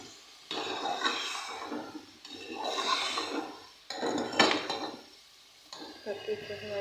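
A spoon scrapes and stirs potato and cauliflower aloo gobi in a pan in several long sweeping passes with soft sizzling and utensil clinks, close by.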